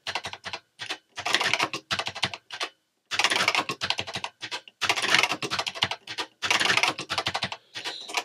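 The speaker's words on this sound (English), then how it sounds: "Pressing all the wrong delete keys here." Fast typing on a computer keyboard while writing 6502 assembly in BBC BASIC, with dense bursts of clacking keystrokes broken by short pauses, close and clear with no talking.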